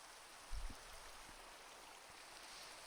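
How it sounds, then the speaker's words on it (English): Rain in the video game Minecraft: a soft, steady hiss of rainfall, faint and even, with a couple of small low thumps. "Oh, it's raining, that's nice."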